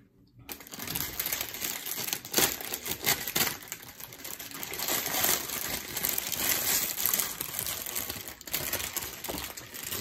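An Eaglemoss Iron Man Mark 12 figurine package being unboxed: continuous crinkling of plastic and cardboard with rustles and small knocks, close and steady throughout.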